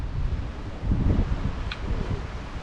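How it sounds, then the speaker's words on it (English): Wind gusting outdoors around a John Deere 460M baler during spring repairs, a rough low rumble of buffeting against the microphone rising and falling throughout, with no talk. "Trying to keep the wind from grabbing the sides"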